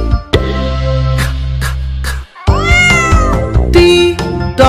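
A cat meowing loudly and close, several drawn-out meows in a row with a brief gap between them, no talk.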